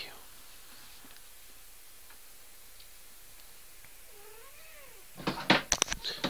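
A cat lets out a short, wavering meow near the end of a quiet room recording, followed by a burst of louder noise.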